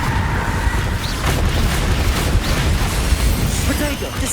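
Spell explosions from Confringo casts in Hogwarts Legacy boom in a dense, continuous barrage of bursts and rumbles during combat, loud and close throughout.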